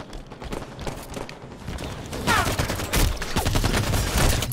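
Weapon fire in Halo 5 keeps up through the stretch, growing louder and denser after the midpoint; the exact sniper rifle report cannot be picked out from the surrounding battle noise.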